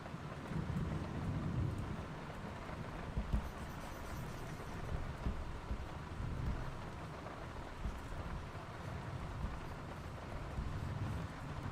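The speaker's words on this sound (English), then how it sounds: "I enjoy the rain sounds" Steady rain with distant thunder, a constant soft wash of falling drops and low rumbling throughout, heard faint and even with no voices.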